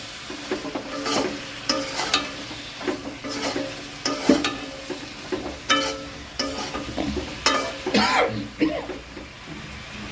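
Beans and potatoes fry with spices in a pan, crackling steadily up close while a spatula knocks and scrapes in a loose, repeated rhythm; a cough or throat-clear sounds faintly now and then.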